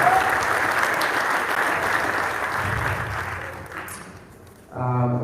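Sustained applause from an audience at a school athletics awards night, steady and dense for several seconds, dipping briefly before a final burst.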